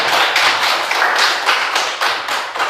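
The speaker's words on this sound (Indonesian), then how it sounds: "tepuk tangan buat teman" Fourth-grade classmates in a classroom clap in a rhythmic, unison beat, about eight to nine firm pulses at an even pace, close and fairly loud.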